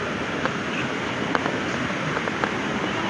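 Floodwater pours through a breached Gomti river embankment as a constant, dense rushing roar with scattered small knocks and splashes, steady and unbroken throughout.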